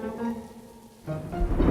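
Rain falls in Mumbai as a steady, moderate hiss that dips briefly, then swells louder and denser toward the end, with no voices.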